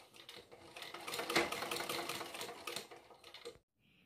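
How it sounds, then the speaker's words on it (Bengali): A sewing machine runs a double line of stitching along the side of a pocket being attached to a handkerchief, a steady dense close-up whir lasting about three and a half seconds before stopping abruptly. "এখন এরকম সাইড করে পুরোটা আমি ডাবল করে সেলাই করে লাগিয়ে দেব।"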